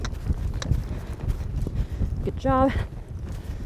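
Horse's hoofbeats at a lope, a rhythmic thudding of hooves on soft ground close by, with a brief spoken remark and a short voiced whistle-like tone partway through.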